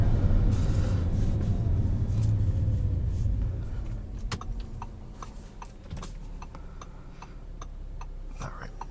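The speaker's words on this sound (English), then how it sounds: "Fun times with launch control." A 2019 Audi A4 S-Line fitted with an aftermarket intake launches hard under launch control, its engine rumbling loudly before settling into a steadier drone, with ticking clicks from the cabin. No one speaks.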